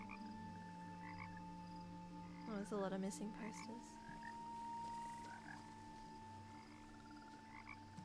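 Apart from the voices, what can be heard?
frogs croaking, from the video game What Remains of Edith Finch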